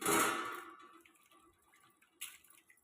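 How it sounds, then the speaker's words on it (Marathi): Prawns being washed in a bowl of water: water splashes and sloshes, a loud burst at the start and another shorter one later, with quiet drips between. "स्वच्छ पाण्याने धुवून घ्यायची आता पाण्याने धुवून घ्यायची चांगली"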